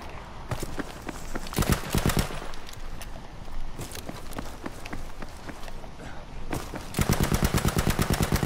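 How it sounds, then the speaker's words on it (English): Gunfire in a squad-based shooter game: scattered single shots and short bursts, then a sustained rapid burst near the end, over busy background movement noise with no talking. "I'm just shooting at bushes."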